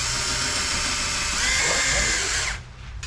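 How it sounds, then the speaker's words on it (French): A power drill bores a hole into the frame of a Giant Advanced Pro TCR road bike. It gives a loud, steady, high whine for about two and a half seconds and then cuts off abruptly. "Faut littéralement que je perce un trou"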